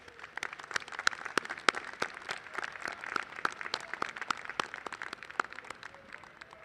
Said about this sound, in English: Applaud them as you stand here ready to graduate.